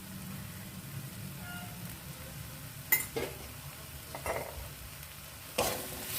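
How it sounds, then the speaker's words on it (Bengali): Ground spice masala for a Bengali cauliflower, potato and soybean curry frying in a pan, a steady soft sizzle with occasional louder scrapes of stirring, heard alone with no talk. "এবার মশলাটা ভালোভাবে কষিয়ে নিচ্ছি"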